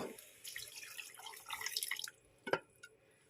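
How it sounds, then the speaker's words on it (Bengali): Boiled mung dal is tipped into a pot of sago khichdi, giving a soft wet sloshing pour, then a quieter pause and a single sharp splash or clink near the end. "এখন দিয়ে দেবো সিদ্ধ করা মুগের ডালটা"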